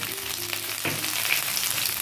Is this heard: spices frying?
yes